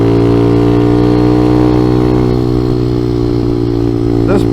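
A Honda CT70 clone motorcycle fitted with a ZS 190 engine runs steadily throughout, a close, loud, continuous mid-pitched engine drone that shifts pitch slightly toward the end.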